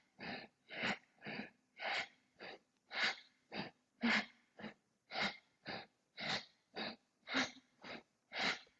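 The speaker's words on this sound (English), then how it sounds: "Beautiful, strong breathing." Strong, rhythmic breathing during a breathwork exercise, about sixteen forceful breaths in a steady, quick pace, each a clear airy rush, close and alone with nothing else audible.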